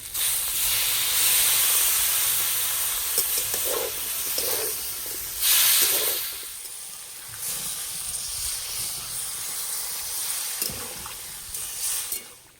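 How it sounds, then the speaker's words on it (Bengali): Water is poured into a hot pan of spiced vegetables, giving a loud hissing steam and sizzle that stays steady and then slowly eases. Faint bubbling and a few knocks sound nearby, with no voices. "সবজির সঙ্গে মশলা ভালো করে কষিয়ে নিয়েছি। এবার জল দেব।"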